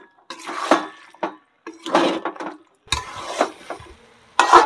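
Mutton fat for ghugni fries in a pan and is stirred in short bursts of scraping and sizzling, loud and close, with brief pauses between strokes.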